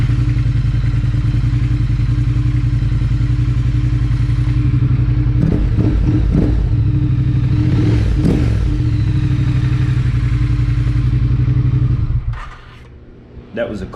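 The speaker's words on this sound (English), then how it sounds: "That was a cold start. It hasn't been started in, I don't know, maybe a week or so." A Triumph Thruxton motorcycle engine idles steadily and loud after a cold start, unused for about a week, with a few blips of revving, before it shuts off near the end.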